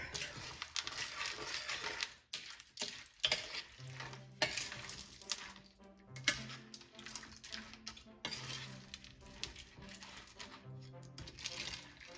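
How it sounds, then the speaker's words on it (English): A large spoon stirs chili mac ingredients together in a pot, busy repeated scraping and clanking of metal on cookware, steady and close throughout. "You'll see that I'm just mixing all the parts together"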